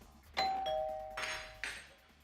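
A doorbell rings twice indoors, each chime a clear ding-dong tone ringing out and fading, moderately loud with no talking over it.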